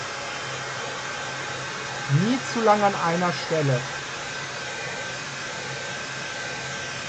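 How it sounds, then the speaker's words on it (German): A hair dryer blows warm air over a latex Jason mask during cosplay work, giving a steady, even drone from start to finish. Someone speaks briefly in German over it midway. "Jetzt nehmen wir noch den Haartrockner"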